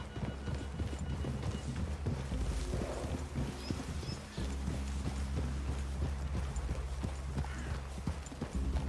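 Horse hooves clip-clop steadily in Red Dead Redemption 2, a continuous trotting rhythm under a low rumbling game ambience, with a faint whinny possible and no talk.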